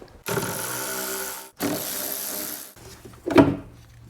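Two bursts of rapid ratchet clicking as a hand ratchet backs out 10mm bolts holding the wiper motor on a 2004-2009 Toyota Prius, close and loud, separated by a short pause and followed by a brief clunk.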